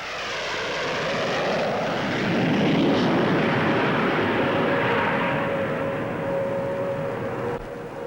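A Gloster Javelin delta-wing fighter, powered by two Armstrong-Siddeley Sapphire jets, passes at a 1955 Farnborough airshow, a loud sustained roar that swells and slowly fades as it flies by, with no talk over it.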